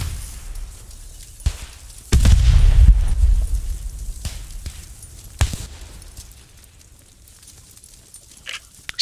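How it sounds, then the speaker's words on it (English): Artillery shells land in the video game Post Scriptum: one loud, deep boom with a rolling low rumble, plus a few sharper, shorter blasts scattered before and after it against quiet background noise. "Good effect on the artillery."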